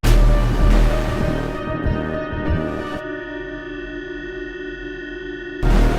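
A heavy cinematic braam-style sound design layer played back at half speed and pitched down, loud and dense with sustained tones and grinding low end, dropping to a thinner held drone before a loud hit returns at the end.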